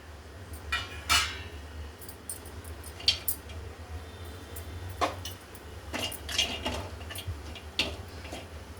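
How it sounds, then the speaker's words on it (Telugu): Cashews roasting in a pan for chicken curry, heard as scattered light clinks and ticks of nuts and a spoon against metal over a low steady hum, irregular and close. "ఇప్పుడు కొంచెం కాజు వేయించుకుందాం."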